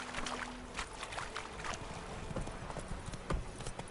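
Horse hooves clip-clop steadily as a horse is ridden in a video game, with a brisk, even rhythm of close hoofbeats over continuous outdoor ambience and faint background noise.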